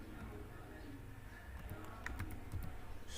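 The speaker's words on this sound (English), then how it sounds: "let me type" Typing on a computer keyboard: quiet, irregular key clicks tapping through the background, with a small cluster of sharper keystrokes toward the end. A voice talks faintly in the background.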